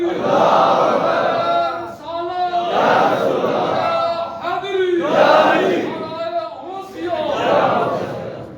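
A crowd roars back in unison to a call of takbir, several loud swelling chant bursts repeating at steady intervals, voices massed and close, at a religious gathering recounting the Battle of Badr.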